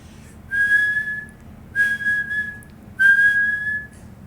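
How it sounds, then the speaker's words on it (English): A whistle sounds three times, each a clear, steady tone of about a second, with short pauses between. "blew 3 times upon her silver whistle"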